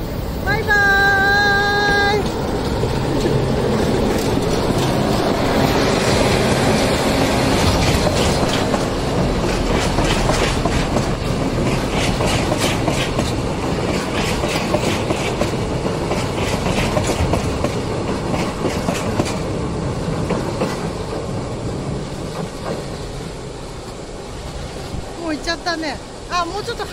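A train rolls past a rail line in Japan, heard up close as a long, loud rumble with rhythmic clickety-clack of wheels over the joints and a horn blast near the start, while people talk over it.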